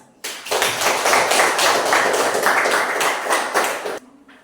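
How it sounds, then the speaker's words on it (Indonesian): Students in a classroom break into brisk, rhythmic group clapping that starts abruptly, holds steady and loud for nearly four seconds, then stops sharply. "Ayo kita tepuk tangan."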